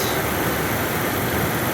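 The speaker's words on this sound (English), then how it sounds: "Engine purring" Steady cold-start idle from a 1997 Lexus LX450 with its fan turning: a continuous, smooth engine drone mixed with airy fan rush, near and fairly loud, no voices.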